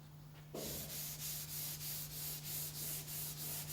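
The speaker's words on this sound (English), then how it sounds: "as seen here with dry sanding" Dry sanding of a surface gives a close, steady abrasive rasp with a regular back-and-forth pulse of strokes under a constant low hum, starting abruptly after a quiet moment.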